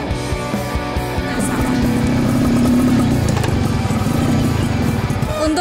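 A motorcycle climbing a steep gravel road toward Watu Gandul near Bojonegoro, its engine droning loud and close at a steady, labouring pitch throughout.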